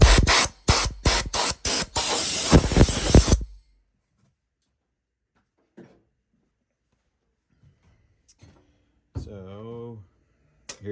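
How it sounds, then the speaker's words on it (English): Compressed air is blown through a Ridgid R4850 portable planer in a series of loud, close hissing bursts, then stops. Quiet handling noises and brief speech follow. "but you gotta blow the dust out of here"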